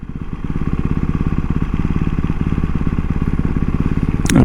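A BMW F900R or Yamaha 600XT motorcycle engine idles high during running-in, a steady close throbbing pulse that holds evenly throughout and rises slightly at the very end.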